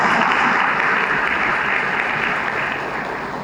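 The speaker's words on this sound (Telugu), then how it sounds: "శివకుమార్ గారిని బలపరుస్తూ గట్టిగా ఒకసారి చప్పట్లు కొట్టండి." An audience at a gathering applauds loudly in support of Sivakumar, a thick continuous roar of many hands that holds steady and then eases slightly toward the end, with no talk over it.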